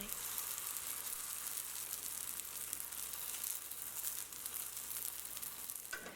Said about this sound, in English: add the scallion pancake into the pan. Cook this side around 2 minutes, and then flip it to the other side.